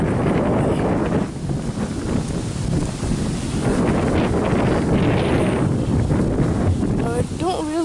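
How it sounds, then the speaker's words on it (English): Loud, gusty wind buffets the microphone outdoors in a constant rumble, with a faint voice briefly audible under it. "Sorry for the wind."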